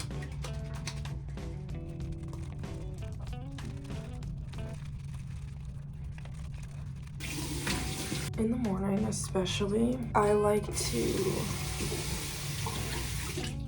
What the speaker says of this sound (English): wash my face with cold water